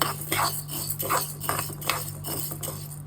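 Dal dry-roasting in a pan over a low flame, stirred with a metal spoon: repeated scraping and light clinks against the pan in an uneven rhythm, close and moderately loud, with no voices.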